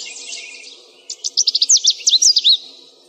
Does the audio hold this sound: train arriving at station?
no